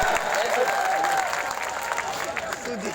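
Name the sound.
audience clapping at a poetry gathering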